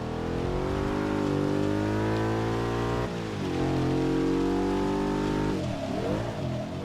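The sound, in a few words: stock Audi S4 engine revving in the video game Forza 6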